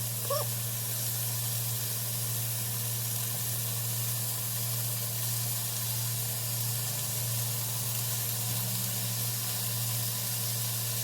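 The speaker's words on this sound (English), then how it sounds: "I'm gonna start adding these beef cube chunks because they're thicker and they might take longer to cook" Thick beef cube chunks sizzling in a hot pan for Puerto Rican bistec encebollado, a loud, steady hiss and crackle of frying that runs unbroken and close throughout.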